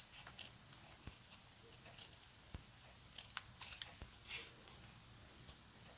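Scissors snip through a paper sticker in short, scattered crisp cuts, quiet and close, with a few brighter crunchy snips near the middle and no talking.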